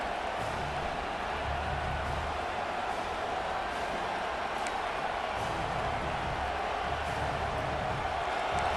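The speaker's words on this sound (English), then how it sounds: "this big crowd doing everything possible to inspire this defense down here near the goal line" A big football stadium crowd roars in a steady, dense wash of cheering to spur the defense near the goal line, distant and sustained for several seconds without a break.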